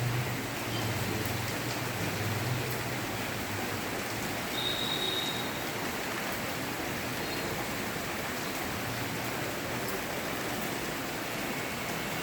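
Steady rain pours down outside a balcony where neem tree branches hang close, a dense, even hiss that fills the whole stretch without pause or voices.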